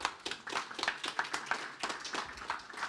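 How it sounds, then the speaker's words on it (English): A small audience claps for Mark after a talk at the Modular Summit's Chisel stage, the claps irregular and fairly sparse, moderately close, with no voices over them. "big round of applause for Mark."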